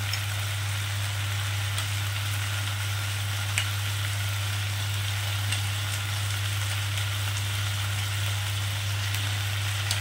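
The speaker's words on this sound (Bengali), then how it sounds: "দিয়ে চিকেনটাকে একটু ভাজা ভাজা করে নেব।" Marinated chicken pieces frying in a kadai over high heat, a steady broad sizzle with occasional light crackles over a constant low hum.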